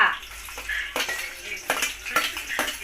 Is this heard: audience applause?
no